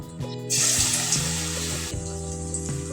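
Corn pakora batter dropped spoonful by spoonful into hot oil sets off a loud, steady hissing sizzle, with small clinks and splashes breaking through as each portion lands.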